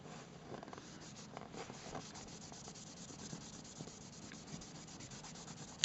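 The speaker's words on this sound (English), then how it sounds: "just going to get some polish on there. and basically just rub it on." Cloth rubs polish onto leather buckling cuffs, a faint, continuous scratchy brushing with uneven strokes throughout.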